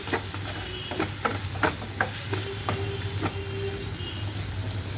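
Raw banana pieces frying slowly on a low flame in a covered pan, a quiet steady hiss with scattered light clicks and pops and a low hum underneath.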